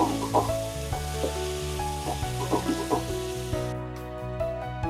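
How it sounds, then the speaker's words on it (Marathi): Tomatoes sauté in a pan for pav bhaji with a continuous sizzle and frying crackle, stirred with intermittent scraping knocks, close and fairly loud throughout. "2 ते 3 मिनिट टोमॅटो सुद्धा आपण परतून घेऊ."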